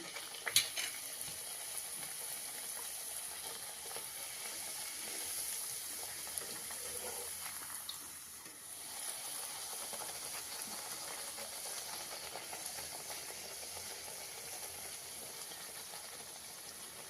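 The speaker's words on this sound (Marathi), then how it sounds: "आपण एक एक पुरी तळून घेऊया." Fenugreek puris frying in hot oil, one at a time, give a steady, dense hiss and sizzle that holds for the whole stretch, with a short louder crackle near the start and no talking.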